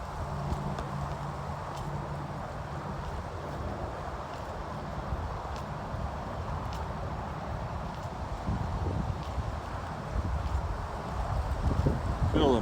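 Wind blows steadily across a rosemary scrub while someone walks off trail, a constant low rushing with rustling and microphone buffeting that builds louder toward the end.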